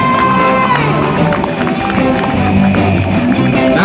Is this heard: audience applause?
yes